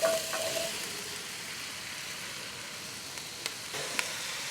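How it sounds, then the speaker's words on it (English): Beets tipped into a pan of softened onions for an autumn soup, sizzling in a steady, bright frying hiss that holds for several seconds, close up, with faint stirring clicks near the end. "Going to add the beets."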